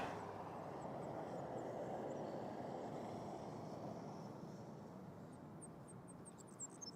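Avianca airliner in a special livery at Toronto Pearson airport, a steady broad jet engine roar that holds loud and constant before easing slightly, with faint high whistling tones near the end.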